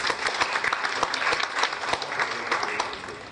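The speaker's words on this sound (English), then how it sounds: "we should give a big round of applause for him" An audience at an LMA meeting breaks into steady, full applause, dense crisp clapping sustained evenly throughout with no voice over it.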